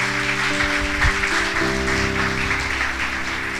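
A church congregation applauds during a Sunday service, a steady wash of clapping over sustained organ or keyboard tones.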